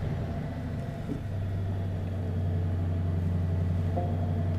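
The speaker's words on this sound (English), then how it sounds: "So let's press the button to start the V8." A 2027 Audi SQ9 SUV's V8 engine starts with a push button, catching with a brief surge about a second in, then settling into a steady, low, close idle rumble.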